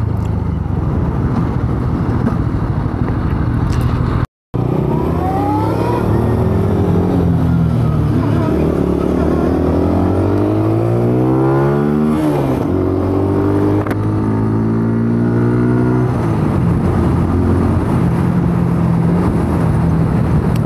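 A 125cc motorcycle rides along a road while a 1000cc bike accelerates nearby, the engines rising and falling in pitch through repeated revving sweeps, loud and close.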